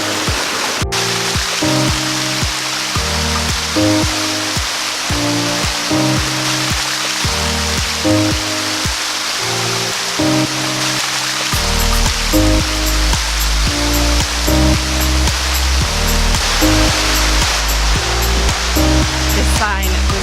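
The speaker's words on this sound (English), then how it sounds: "Sticky-ish waterfalls." Water pours steadily down the Sticky Waterfall in Thailand, a continuous rushing wash beneath loud music throughout.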